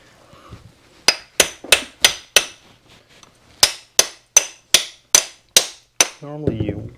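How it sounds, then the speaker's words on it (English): Hammer blows on a stuck, gunked-up part: two quick sets of sharp metallic strikes, three then six in steady rhythm, close and loud, with a brief low clatter at the end. "Normally you wallop them a couple of times and then they'll come free"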